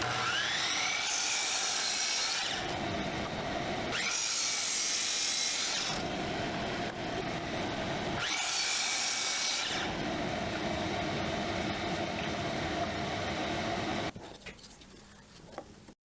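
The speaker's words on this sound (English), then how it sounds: "I just need to cut a support block to clamp this to" A hand saw cuts a wooden support block in a workshop with long rasping strokes, pausing and resuming several times, close and steady before fading near the end.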